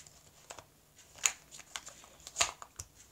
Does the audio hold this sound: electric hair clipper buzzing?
no